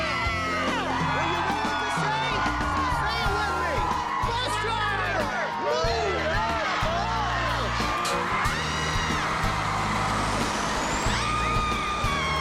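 A large bus idles, hisses its air brakes and pulls away outdoors, its engine rumble rising, while a crowd cheers and whoops loudly over it throughout.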